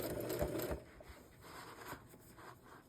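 Sewing machine stitching through pajama-pants fabric for a jelly roll trivet, a steady close whirring run that is loudest at first and then continues more softly, with no voices.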